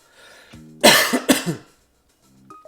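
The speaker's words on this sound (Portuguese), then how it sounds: "Me deu uma tosse." A person coughs a few times in a short, harsh burst, close and loud, with quiet murmured voice before and after.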